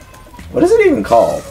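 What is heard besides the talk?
cat howling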